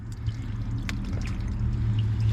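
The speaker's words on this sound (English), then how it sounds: "then just rinse it towards the drain with the water" Water is poured and trickles across a surface toward a drain, a soft, steady splashing close by with faint background hum and no speech.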